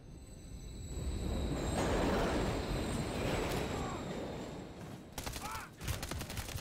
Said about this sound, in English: Another train coming.